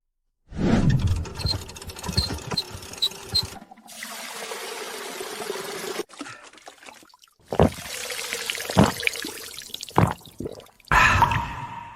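A village water pump brings water up in a place short of water, heard as gushing, pouring and splashing in several separate bursts with drips and abrupt breaks between them.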